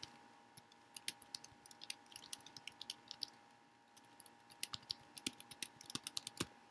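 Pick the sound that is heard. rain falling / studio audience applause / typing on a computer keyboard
typing on a computer keyboard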